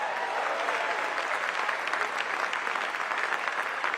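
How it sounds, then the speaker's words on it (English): A crowd at a political rally held at a gun store in Scottsdale, Arizona claps in sustained, dense applause, loud and steady for the whole stretch. "Give yourself a round of applause."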